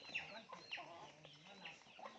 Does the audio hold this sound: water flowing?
no